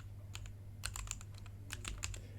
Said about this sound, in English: I'll just type in this here.